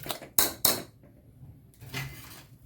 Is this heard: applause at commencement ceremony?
no